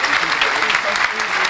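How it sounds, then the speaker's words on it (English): An audience claps in a round of applause at a talkaoke chat event, a dense, steady patter of many hands filling the whole moment close up. "we'll give you a round of applause"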